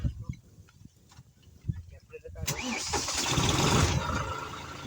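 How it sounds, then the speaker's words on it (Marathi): A tractor engine cranks and catches partway through, then settles into a loud, rough running rumble; a person talks over the quieter start. "झालं ट्रॅक्टर चालू."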